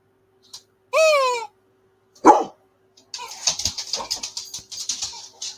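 A dog gives a single sharp bark after a brief whine-like tone, followed by a rapid run of scratchy, chirping sounds close by.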